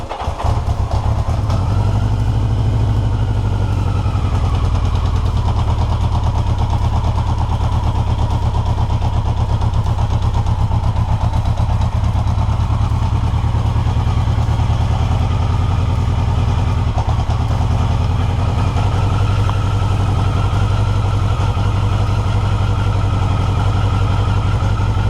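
A 1982 Yamaha XJ650 motorcycle catches on its first start and settles into a loud, close, steady idle with a mechanical clatter, running continuously for about 25 seconds.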